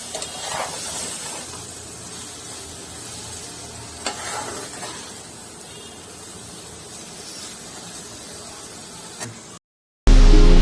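Paneer bhurji, crumbled paneer salted and stir-fried for three to four minutes, sizzles and hisses steadily in a hot pan, with occasional scraping stirs, close and constant, ending abruptly.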